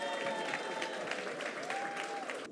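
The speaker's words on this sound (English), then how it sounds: "Give him a round of applause" Audience applause at a Caribbean awards ceremony, a steady dense round of clapping from a crowd, moderately loud and sustained before easing slightly at the end.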